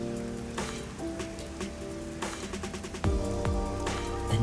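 Steady rain falling over the busy neon-lit streets of Kamasaki District in the video game Master Detective Archives: Rain Code, a continuous hiss under layered ambient music with occasional soft thuds.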